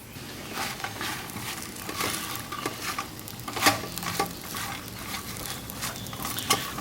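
Gnocchi browning in a skillet at a campsite cooking setup, a steady soft sizzle broken by occasional scraping stirs and light clinks, moderately close and fairly quiet with no talking.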